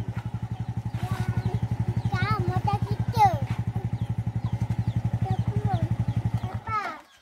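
A motorcycle engine runs steadily close by with a fast, even putter, while several people talk over it before it cuts off near the end.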